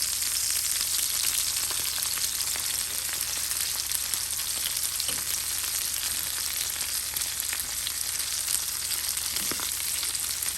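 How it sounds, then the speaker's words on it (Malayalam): Masala shrimp fries in a pan with a steady, dense sizzle that holds for the whole stretch, lit by a few faint stirring clicks and no voices. "ഞാനിപ്പം മറ്റേ സൈഡിന് ചുറ്റിട്ട് കൊടുത്ത് ഫ്രൈ ചെയ്തെടുക്കാൻ പറ്റും."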